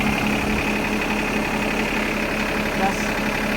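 A John Deere lawn tractor engine runs steadily at a low idle, a continuous close mechanical drone with a faint knocking pulse.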